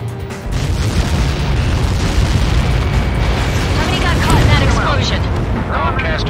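A huge blast as a projectile strikes in the Ace Combat 7 flight game, a loud rolling boom that rumbles on and on with crackling debris, while radio voices talk over the roar.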